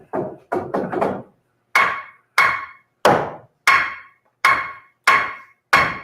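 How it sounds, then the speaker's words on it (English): Hammer blows on wood while framing a house: a quick cluster of light taps, then a run of evenly spaced, sharp, ringing strikes, each fading fast, loud and close with no talk. "I can hammer it your way."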